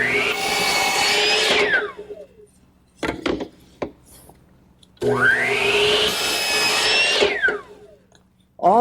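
A miter saw cuts wood pieces to identical length for a wine storage unit, two long loud cuts with the blade whining down after each, separated by short clatters of handling the stock.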